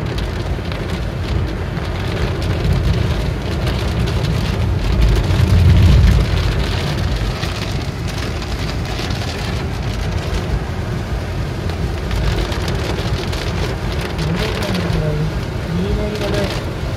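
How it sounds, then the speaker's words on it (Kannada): Heavy rain pours on a car while driving, a loud, steady broadband roar of drumming drops that continues without a break from start to finish. "ಎಷ್ಟು ಜೋರಾಗಿ ಮಳೆ ಹೊಡಿತಾ ಇತ್ತು ಅಂತ"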